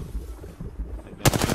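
Automatic gunfire in Apex Legends: after a quiet, murmuring stretch, a rapid, close, loud burst of shots erupts right at the end.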